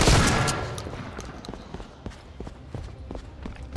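Shotgun fire in the video game Deadrop, a rapid series of sharp blasts and impacts, loudest at the start and then continuing as quicker, lighter cracks in a busy close-range fight.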